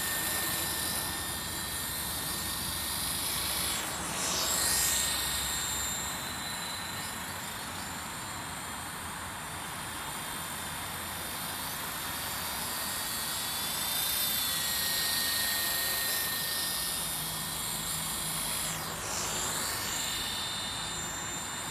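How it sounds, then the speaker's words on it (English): Sky Dancer single-blade radio-controlled helicopter in flight, a continuous high whine with a buzzing rotor that swells and fades as it passes nearer and farther, with no talking. "She's a very smooth copter, this one."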